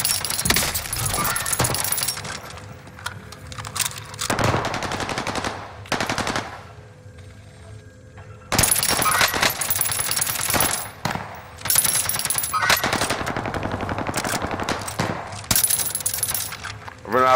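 Rapid bursts of automatic gunfire from a shooter video game crackle loudly and close in repeated volleys, separated by brief lulls, with clinking metallic bits and no talking.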